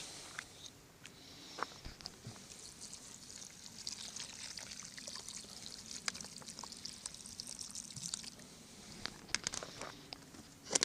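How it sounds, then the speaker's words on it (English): Water pours into a cast iron pot for a venison stew in a continuous trickling, splashing stream, close and fairly soft, with small clinks and drips scattered throughout. "We'll add some water."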